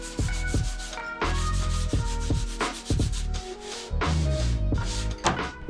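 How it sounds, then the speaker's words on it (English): Repeated rhythmic strokes of light hand sanding on primed wood beadboard on a ceiling, a scratchy back-and-forth rubbing in bursts with short pauses between passes. "I'm just going to do a super light sanding here."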